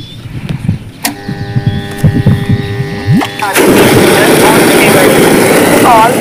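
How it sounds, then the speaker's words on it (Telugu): A farm water pump motor, started remotely by a phone call, kicks in partway through: a series of electronic tones and clicks comes first, then a loud, steady mechanical roar that holds to the end. "కాల్ ద్వారా మీ మోటార్ ఆన్ చేయబడి"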